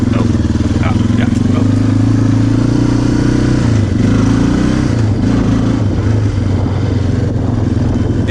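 A 1993 Yamaha Kodiak 400 ATV engine runs after repairs, a loud, close, steady mid-pitched putter with slight shifts in pitch as it idles and revs lightly, with faint clatter and a voice over it.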